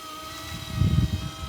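A small rotor whirs with a steady tonal hum while low, pulsing wind-like rumble builds as it spools up.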